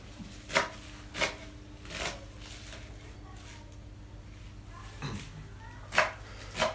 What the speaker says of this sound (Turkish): Ardından doğramaya başlıyoruz.